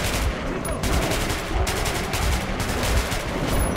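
Shotgun firing in the video game Metro 2033 Redux, a dense burst of loud blasts in quick succession over noisy combat ambience, with no clear speech.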